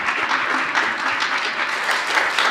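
Brief applause from a congregation at a spiritual center service, a steady wash of many hands clapping, fairly close and even in loudness, with no talking over it.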